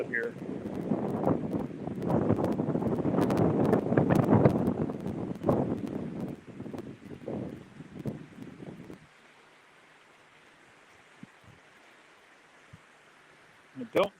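Wind blowing outdoors at a 1937 swinging bridge, a rushing, gusty roar that swells loudly for several seconds and then drops away to near quiet, with a voice talking over it.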